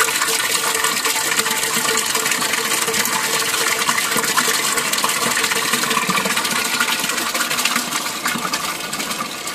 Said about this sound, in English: Then we got the siphoning action.